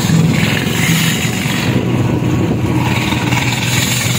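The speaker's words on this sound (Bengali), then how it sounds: "সাঙ্গু নদী দিয়ে এই ট্রলারটা যায়।" The engine of a trawler boat on the Sangu river drones loudly and steadily, a dense continuous roar with no clear gaps throughout.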